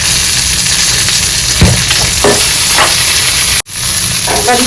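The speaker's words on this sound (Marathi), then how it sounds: "अद्रक थोडंसं तेल टाकायचं आणि भाजून घ्यायचं चांगलं" Ginger roasts in a little oil with a loud, steady close-up sizzle, broken by a few scraping stirs and a brief sudden dropout before the frying resumes; no voices.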